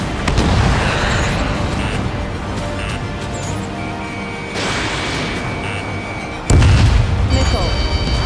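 Missile launch and explosions in the combat flight game Ace Combat 7: loud, continuous rumbling blasts with a sharp, heavy boom bursting in near the end.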